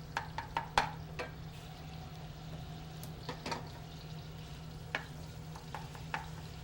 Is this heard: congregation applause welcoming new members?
no